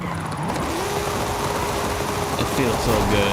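Mercedes-Benz car engine in the Forza Horizon 5 racing game, a steady, smooth mid-pitched engine drone that rises slightly in pitch, continuous and fairly loud, with faint background noise.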